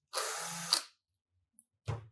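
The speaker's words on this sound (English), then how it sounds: "Drilling up to the far cortex" A surgical power drill bores through bone up to the far cortex while a GAP Nail 2.0 intramedullary nail is locked in place, giving a steady close whir with a sharp burst near the end, then a short quiet gap and another brief burst.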